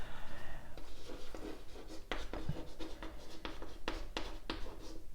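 Chalk or marker writes on a classroom board, with a run of short, crisp strokes and taps in quick irregular rhythm, close and fairly quiet.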